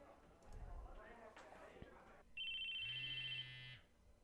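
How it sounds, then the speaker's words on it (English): An electronic cell phone ringtone chimes in Chaos;Head Noah, a short bright repeating trill that rises suddenly in a quiet classroom after a brief spoken line. "It was my cell phone."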